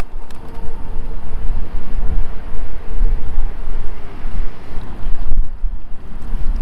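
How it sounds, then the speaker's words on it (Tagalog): Strong wind roars steadily across an open boat deck at sea, a loud continuous gust noise buffeting the microphone with a low rumble of water beneath, no voices. "Grabe lakas ng hangin."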